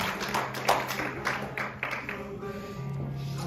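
At a church service, a congregation gives scattered hand claps that taper off, with voices murmuring and praising over them and a low hum underneath.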